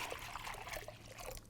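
A steady, close stream of sweet tea pours into a container for a chicken brine, a continuous trickling splash that lasts the whole stretch.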